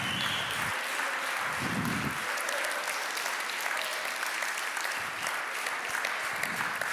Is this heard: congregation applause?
yes